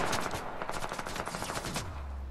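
Sustained automatic gunfire in Fortnite, a fast, loud, even rattle of rapid shots lasting about two seconds with no talk over it.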